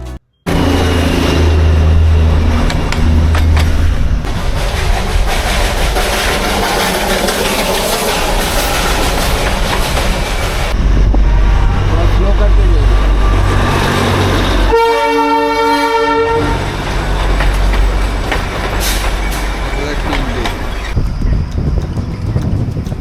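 A Darjeeling toy train rumbles past near Ghum station with a continuous loud clatter and engine roar, and its horn sounds once in a clear, sustained blast partway through.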